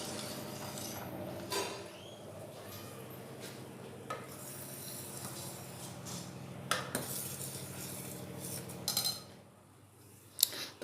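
A spoon stirs powdered milk into whey in a metal pot, quiet scraping and clinking strokes against the side, soft and close, with a few sharper taps near the end.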